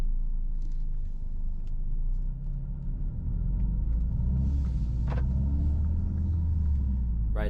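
A Mercedes-AMG A45 S 4MATIC hatchback with a 421 hp engine, running in comfort mode, gives a steady low rumble from inside the cabin that stays even throughout, with no sharp revving.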